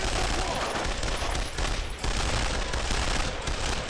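Dense, continuous gunfire rattles through a firefight in the World War II game Brothers In Arms: Road To Hill 30, loud and sustained like a fusillade of rifles and machine guns.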